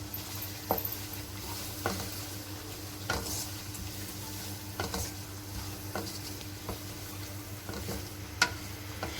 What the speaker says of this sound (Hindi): मसाले ऐड किए हैं, चिकन फ्राई हो रहा है।